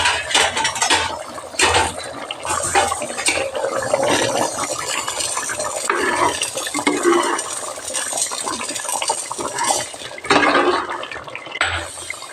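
A spoon scrapes and sloshes through a pot of chicken curry (kuzhambu) made with roasted, hand-ground spices, with steady wet stirring and occasional metallic clinks against the pot, close and continuous.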